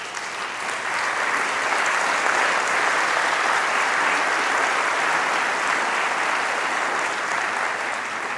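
An audience at a science and music event on Alzheimer's disease applauds a researcher, a loud, continuous round of many hands clapping that holds steady for several seconds.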